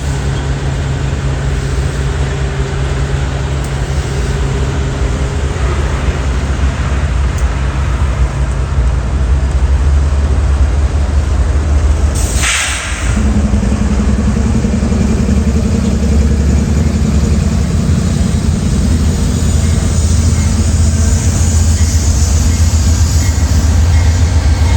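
Union Pacific locomotive 7775 rolls into Roseville with a loud, steady diesel rumble and rail noise, a brief sharp squeal near the middle, then continues at the same level.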